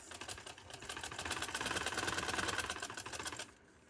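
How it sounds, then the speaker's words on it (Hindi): A sewing machine runs a line of stitches through fabric for a V-cut neckline, a fast, even mechanical chatter that swells slightly in the middle and stops abruptly near the end, close up and heard alone. "अब ये मैं एक सिलाई लगा के बताती हूँ आप लोगों को।"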